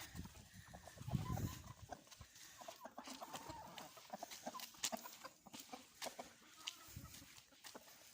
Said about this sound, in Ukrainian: І півник, і курочки всі біжать за мною.